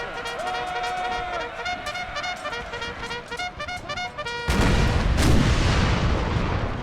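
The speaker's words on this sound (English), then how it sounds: "their cannons are still roaring" Cannon fire in Empire: Total War, with a rapid string of artillery booms and crackling shots over a battle soundtrack, followed by a louder, denser barrage of blasts near the end.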